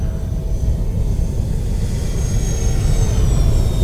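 An RC OV-10 Bronco scale model plane cruises past in flight, giving a steady engine drone with low rumble that holds at a constant loud level, with a faint high whine rising toward the end.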